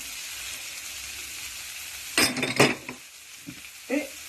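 Garlic and parsley sautéing in a pan under a steady soft sizzle, with a spoon scraping and clinking against the pan in a few short bursts as it is stirred.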